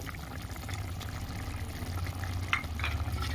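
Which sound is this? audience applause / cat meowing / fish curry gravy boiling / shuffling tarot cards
fish curry gravy boiling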